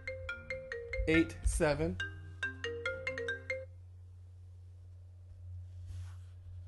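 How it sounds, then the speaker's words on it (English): A phone ringtone plays a bright, repeating melodic pattern of short electronic tones over a steady hum, with a brief voice partway through, then the ringing stops and the room falls quiet. "Phone was ringing real quick."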